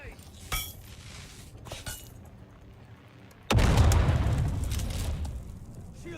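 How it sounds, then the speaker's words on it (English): A grenade is thrown in a video game: a few light clinks and taps, then a sudden loud blast that leaves a heavy, slowly fading rumble. "Tossing grenade."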